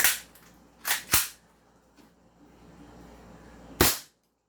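A silver toy Desert Eagle pistol fires four sharp cap-gun cracks, three close together and one after a pause, each loud and crisp against a quiet background.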